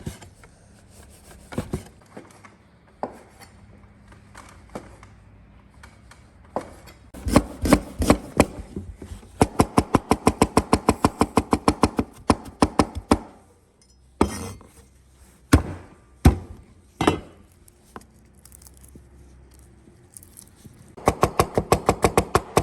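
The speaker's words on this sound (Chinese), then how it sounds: "来，我们切肉啊，切片，" A knife slices very cold meat into thin pieces on a cutting board, making loud, quick runs of rhythmic knocks and chops with short pauses between bursts, close up and without talking.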